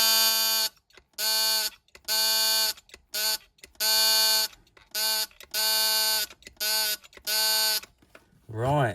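A vintage 1950s Fairylite Morse signalling set gives off a harsh, steady electric buzz. It sounds in a run of short and long bursts of Morse-like keying with silent gaps, loud and close, and ends with a brief voice.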